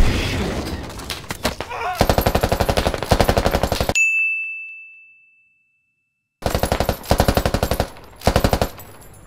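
Automatic gunfire fills a video game shooter, with rapid bursts of shots and a ringing metallic ding, then a pause of silence before more fast volleys.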